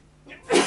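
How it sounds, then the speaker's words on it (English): A single close sneeze with a short inhaled build-up and a loud burst, indoors. "I'm going to sneeze."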